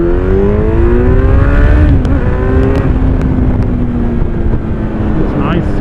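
A Kawasaki Z900 motorcycle with an Akrapovic exhaust revs high on the road, a loud rising and falling engine whine over heavy wind rush, heard close from the rider's position.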